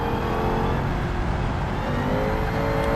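BMW 5 Series with a welded differential in BeamNG.drive, engine held at full throttle while drifting, a steady loud droning roar with no pauses.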